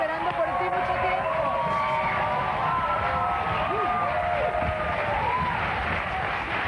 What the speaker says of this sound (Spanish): Recibe el aplauso de quienes tienen esperando por ti mucho tiempo.